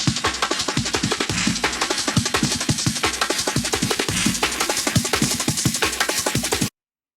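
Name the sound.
drum loop pitching up in a drum and bass intro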